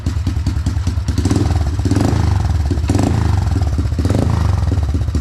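Honda ATC185S three-wheeler engine running with a performance exhaust, a loud, rough, pulsing single-cylinder chug that rises slightly in revs partway through and stays close and steady.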